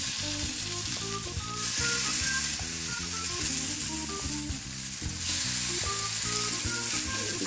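Black bean cakes fry in a little olive oil in a warmed skillet, a loud continuous sizzle that holds steady over background music.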